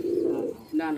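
A pigeon at a high-flying pigeon loft gives a brief, close, throaty coo that dips and then rises again, lasting about a second.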